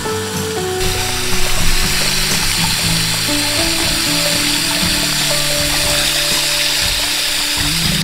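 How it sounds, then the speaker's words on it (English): Water from a garden hose runs steadily into a bucket, a continuous rushing fill with a tonal hum beneath it, close and fairly loud for the whole stretch. "you're gonna grab your hose and you're gonna fill your bucket about 3/4 of the way full"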